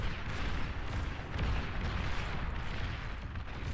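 Rapid, overlapping explosions and gunfire-like booms rumble through a busy real-time strategy battle between T1 infantry and bots, a dense, continuous low roar with no clear gaps.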